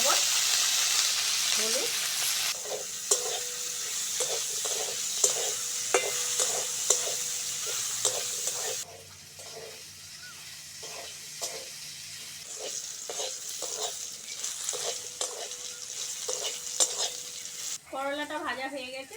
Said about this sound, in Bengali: কড়াই তেল দিয়ে দিয়েছি, প্রথমে করলাটা ভেজে নেব।